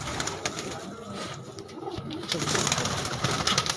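Low, muffled cooing of pigeons on a rooftop in Multan alongside faint rustling and background noise, moderately quiet throughout.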